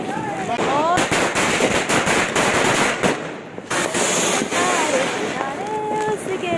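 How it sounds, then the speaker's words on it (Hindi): Diwali firecrackers burst one after another in rapid, loud crackling volleys, with some whistling rockets, a dense continuous barrage close by. "बस फिर हम सब भी शुरू हो गए एक के बाद एक पटाखे छोड़ने के लिए।"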